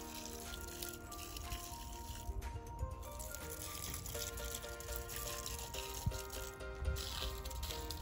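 Liquid sloshes and trickles as Miracle-Gro Bloom Booster Flower Food is stirred into a gallon of water, a continuous soft watery swirl with a few knocks against the container, under steady background noise.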